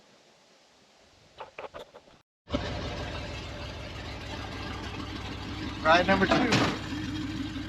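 A 1978 Chevy K10 4x4 square-body pickup engine runs steadily at idle with a rough, low rumble suspected of wiped cam lobes, after a short pause; someone speaks briefly over it and a louder burst rises near the end.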